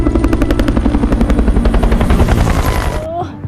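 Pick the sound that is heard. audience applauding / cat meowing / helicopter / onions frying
helicopter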